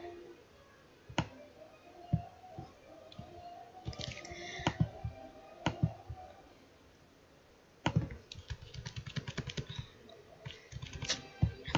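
Typing on a computer keyboard: quiet, irregular clicks of keys in short bursts and scattered taps, with a denser flurry of keystrokes toward the end.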